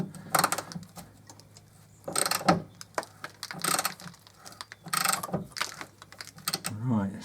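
A nut on the rear roll bar of a 2001 Mercedes SLK is worked loose with a spanner, giving bursts of grinding, ratcheting metal clicks between pauses, close by, while someone talks and grunts over it.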